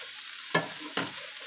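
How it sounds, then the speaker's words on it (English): Butter, onions and garlic sautéing in a pan, with a soft background sizzle and two brief stirring scrapes, quiet and close. "just melt some butter, pop in the onions and the garlic. And you're just going to saute it for a couple minutes"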